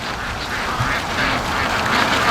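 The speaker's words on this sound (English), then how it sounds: "So it looks like my ducks are coming home." Free-range ducks heading back toward their pen give a few scattered quacks, faint and partly buried under constant gusting wind.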